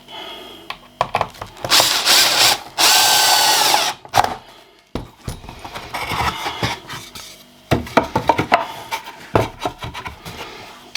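Power drill driving screws at a diagonal into reclaimed pallet wood for a picket fence, loud whirring bursts of varying length separated by short pauses, with scraping and handling noises of the wood in between.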